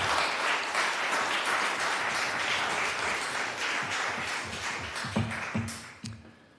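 Steady audience applause fills a city commission meeting room, a dense wash of many hands that thins out into a few scattered claps and taps before fading at the end.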